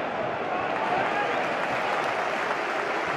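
A football stadium crowd applauds during an FA Cup fifth-round match between Chelsea and Liverpool, a broad, steady wash of distant clapping and crowd noise that carries evenly throughout.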